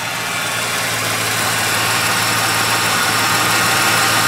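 A 1998 Ford Windstar engine idles steadily under the open hood, a smooth, constant mid-pitched hum with a low droning tone, close and fairly loud with no talking.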